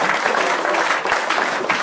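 Loud, dense applause from a studio audience at a comedy show, steady clapping filling the whole moment without talk.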